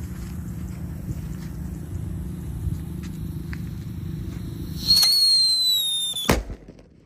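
A New Happy Flower firecracker set off during Ramadan fireworks: a steady fizzing fuse runs for several seconds, then a rising whistle shrieks before one sharp, loud bang and a quick fade.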